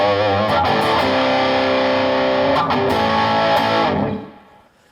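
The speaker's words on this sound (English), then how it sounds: "If I turn my gain all the way up, you hear that little hum. It's very sensitive." Sustained, heavily distorted electric guitar with the amp gain turned all the way up, a loud, thick, ringing wall of tone with faint harmonic shifts before it cuts off and decays into a low hum.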